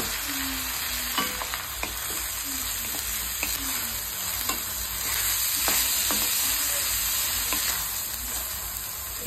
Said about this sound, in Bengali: এবার এই বাকি এই তেলটার মধ্যে আমি যে গোবিন্দভোগ চালটা ভিজিয়ে রেখেছিলাম সেটাকে একটু ভেজে নেব।